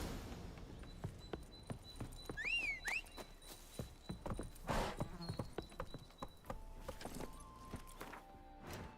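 Roach the horse in Witcher 3 clops along, a string of separate hoofbeats at a walking pace, with a whinny partway through and faint game ambience.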